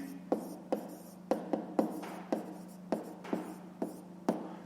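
A pen or pencil writes out a fifth-grade math exercise by hand in short scratchy strokes, about a dozen quick separate marks at an uneven pace, close and fairly quiet.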